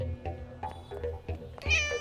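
A cat meows in a Tamil action crime film scene, several close, short mews in quick succession with a higher, louder cry near the end, over a quiet low background.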